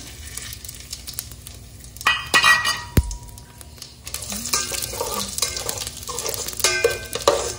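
Whole garam masala spices dropped into hot ghee for egg pulao, with sizzling, a sharp clink of utensils against the pan, and steady stirring and frying sounds that run to the end.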